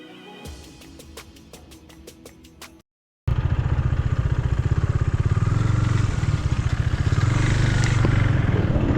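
A motorcycle on a road ride from Bangalore to Ooty: after quiet ticking, the engine fires up and runs with a steady, loud, close pulsing thrum that holds to the end.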